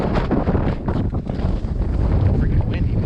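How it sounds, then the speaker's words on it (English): Strong gusting wind buffets the microphone outdoors beside a smoker where a coffee-rubbed pork butt is being cooked, a continuous loud low rumble with surges throughout and no speech. "Alright, it's crazy windy."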